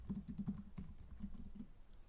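Rapid, steady keystrokes on a computer keyboard as someone types a short message, a continuous clatter of light clicks with no voices, close and fairly quiet.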